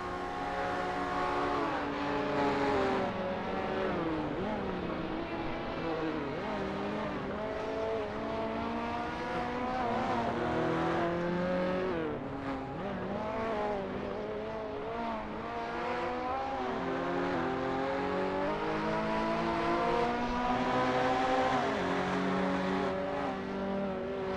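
Race cars in a PC racing game tear past one after another, their engines roaring and revving loudly and continuously with rising and falling pitch as they go by, with no pauses.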